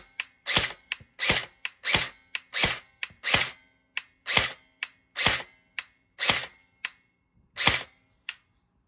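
An HK416 airsoft LPAEG firing 0.12 g BBs, heard up close as a dozen or so sharp single shots at an uneven pace, each a crisp snap with a brief mechanical click in between.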